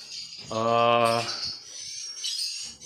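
A recorded swiftlet lure call played through a loudspeaker, a bright rapid chirping tweet repeated in a burst with harmonic, buzzy tones, then trailing off into fainter high twittering.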